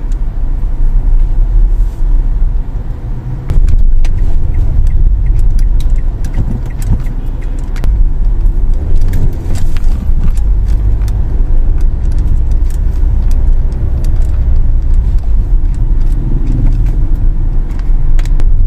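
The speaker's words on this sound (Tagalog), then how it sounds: "Traffic lang kasi maraming mga nakaparada mga jeep tsaka mga tricycle." Street traffic crawls past parked jeepneys and tricycles, a loud, continuous low engine rumble with scattered rattles and clicks and no voices.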